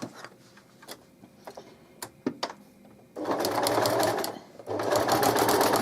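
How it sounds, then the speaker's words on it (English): A sewing machine stitches a simple double-sided baby blanket in two loud, steady whirring bursts, preceded by faint ticks and clicks of the machine being positioned. "just carry on sewing and it will keep that even distance."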